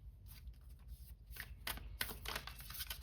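Oracle cards shuffled by hand at a tarot reading, giving soft, irregular papery riffles and flicks that grow a little busier midway, close and quiet with no talking.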